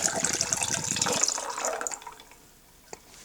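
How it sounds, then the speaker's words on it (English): A pop-top cocktail can from Dash Fire is cracked open, releasing a bright fizzing hiss that is loud at first and then fades into quiet within two seconds, with a faint click near the end. "Good old-fashioned pop top."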